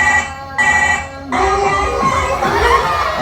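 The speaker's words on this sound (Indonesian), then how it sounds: "Aduh, itu telepon." A telephone rings in a home setting, a loud electronic tone sounding in repeated bursts with short gaps between them, continuing with a busier, denser layer of ringing and background noise toward the end.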